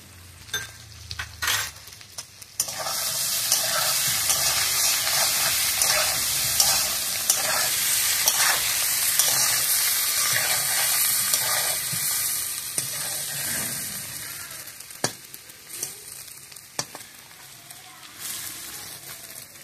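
Potatoes fry with salt and turmeric for aloo dim kosha, a broad steady sizzle starting after a few seconds of clatter, with scattered glassy clinks and stirring over the continuous hiss.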